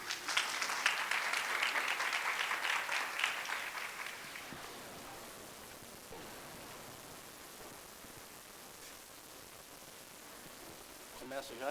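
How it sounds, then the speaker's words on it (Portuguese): An audience at a university postdoctoral researchers' meeting in Brazil gives a burst of applause that fades after a few seconds into quiet room noise, with scattered faint sounds. "e uma salva de palmas para eles"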